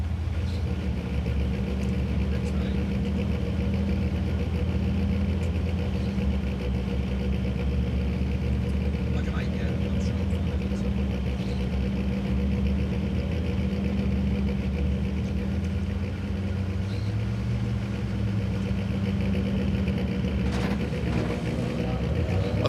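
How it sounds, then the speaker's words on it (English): Rallycross cars at the FIA World Rallycross of Finland 2014 sit on the start line with their turbocharged engines idling and building pressure, a steady low droning rumble that holds throughout. "You can hear the pressure building in the turbos."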